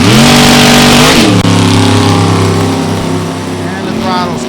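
Drag racing cars launch hard off the line at full throttle at Gateway Motorsports Park in an NHRA Division 3 race, a loud, close, sustained engine roar that rises in pitch, with a commentator's voice partly beneath it.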